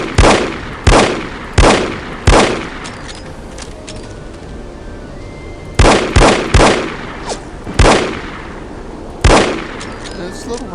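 Revolver shots in the spy shooter No One Lives Forever, about a dozen sharp, loud cracks fired singly and in quick pairs, with short pauses between bursts and faint background game sounds.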